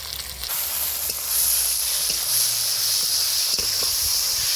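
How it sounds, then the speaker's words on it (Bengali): Onion, garlic and ginger fry in a pan for a rooster chicken curry. A steady close sizzle hisses throughout, broken by a few soft stirring clicks. "আরও আদা রসুনটাও আরও পেঁয়াজ রসুনটাও আরও ভালো করে ভাজা হয়ে যাবে"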